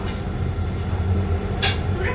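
A Mumbai local train rumbles along between Bandra and Andheri, with a steady low carriage drone and a couple of brief hissing bursts, heard from near the open door.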